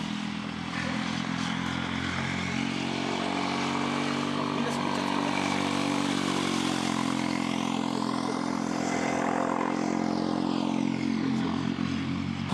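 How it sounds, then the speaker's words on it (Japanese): A motorcycle engine drones steadily as it circles a keirin velodrome during cycling training, a continuous loud hum with a slight pitch sweep as it passes, with speech over it. "競輪のコースをバイクで。"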